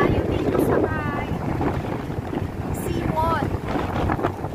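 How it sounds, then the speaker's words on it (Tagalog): Strong typhoon wind gusts roar and buffet the microphone by a seawall, a loud continuous rush with swelling blasts, while someone talks over it. "Sobrang lakas ng hangin, guys."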